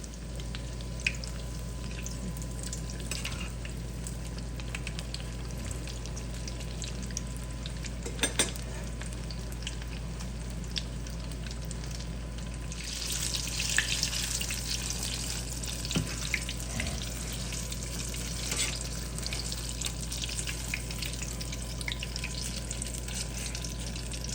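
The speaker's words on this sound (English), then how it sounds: "So now we're gonna go ahead and fry this until it's golden brown all the way around." Battered apple fritters deep frying in oil, producing a steady, close bubbling sizzle with a low hum underneath that grows busier and louder partway through, no speech.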